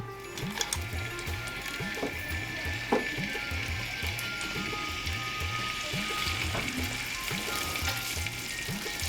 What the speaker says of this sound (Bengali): চুলায় তেল দিলেন বিলকিসাপা রান্না শুরু হয়ে গেছে